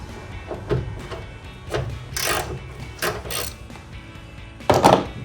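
A 10 mm nut on the grounding strap of a Jeep Wrangler JK being broken loose with a wrench, heard as a few close, irregular metallic ratcheting clicks and scrapes with a sharper clank near the end.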